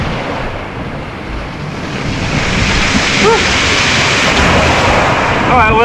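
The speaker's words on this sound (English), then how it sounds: "There's some pretty big waves coming through" Big, rough ocean waves surge and crash at a sea cave on Bonaire, a loud continuous roar of churning water and wind buffeting close to the microphone.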